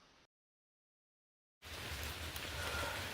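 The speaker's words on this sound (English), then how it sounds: "Trying to keep my phone dry because I'm out in the rain." Rain falls outdoors in a steady hiss with a low rumble, heard close to a phone after a brief dropout of silence, with no speech.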